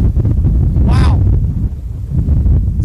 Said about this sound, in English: the wind is got to be about easily 50, 60 mile an hour wind gusts